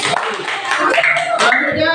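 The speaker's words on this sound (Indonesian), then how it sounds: "tepuk tangan buat mereka." An eighth-grade junior high class applauds a student group, a dense, steady burst of many hands clapping close by, with voices mingling in the noise.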